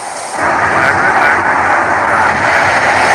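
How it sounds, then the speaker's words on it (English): Rush hour traffic of mostly electric cars, buses and taxis in downtown Oslo, Norway, heard as a steady broadband hum and rush of rolling vehicles with no engine roar, constant and fairly loud throughout. "In downtown Oslo, this is the sound of rush hour."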